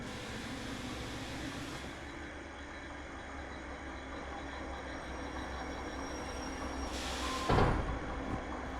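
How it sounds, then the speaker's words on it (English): In the Derail Valley train game, a train slams into a caboose: a steady rail rumble runs throughout, then one loud, sharp crash of impact near the end. "You just slam into the caboose immediately."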